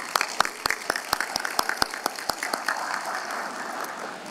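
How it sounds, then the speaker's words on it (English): Scattered applause from a small crowd at a leadership and service awards ceremony, a few sharp claps at first thickening into a steady patter that fades out near the end. "Give her a round of applause"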